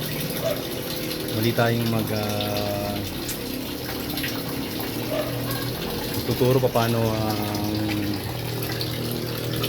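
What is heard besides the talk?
water draining from rooftop tilapia fish pond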